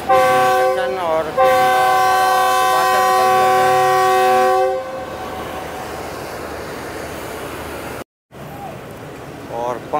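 A passenger summer special train pulls out of Lala Musa junction with a loud, sustained horn blast lasting several seconds, followed by a steady rolling rumble of the carriages and a short break.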